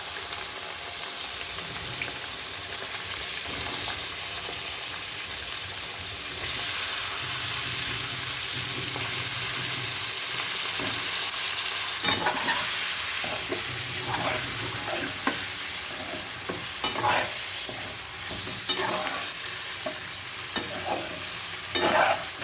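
Fish curry with red chutney frying in oil in a pan, a continuous loud sizzle with stirring scrapes and clinks, growing busier in the second half.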